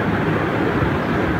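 An amusement park ride train pulls away, giving a steady, close broadband rumble that runs evenly through the whole short moment.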